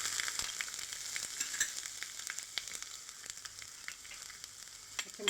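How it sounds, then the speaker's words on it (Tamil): Mustard seeds splutter and crackle in hot oil on a home stove while cooking a potato fry, giving a steady close sizzle dotted with many sharp little pops, with no voices. "கடுகு நல்லா பொரிஞ்சிச்சு."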